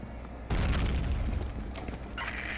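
A bomb goes off in Combat Arms. After a quiet lead-in, one sudden heavy boom breaks out and settles into a loud, rumbling roar that lasts to the end, with some sharper debris-like crackles.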